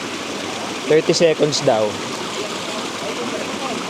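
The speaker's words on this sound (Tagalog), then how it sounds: "Biglang may bumuhos na tubig doon nung nilubog ko yung kamay ko." Cold water flows and splashes in a steady rush near Mt. Fuji in Japan, continuous under a short burst of a person talking.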